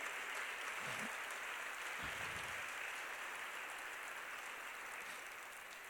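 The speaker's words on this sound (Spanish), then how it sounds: "dale un aplauso a nuestro Dios en esta tarde ya" A church congregation applauds steadily in a broad, even wash of clapping that holds for about six seconds and fades slightly at the end, with faint low murmurs underneath.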